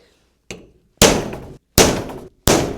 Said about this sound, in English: I'm just going to bring in my punch, line it up, give it a smack